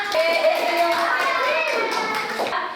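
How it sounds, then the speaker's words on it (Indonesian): Classroom of children clapping for a student group, a steady patter of many hands filling the whole moment with faint kid voices underneath. "Oke, kita kasih tepuk tangan untuk kelompoknya Bella."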